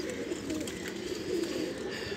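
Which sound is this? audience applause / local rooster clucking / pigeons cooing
pigeons cooing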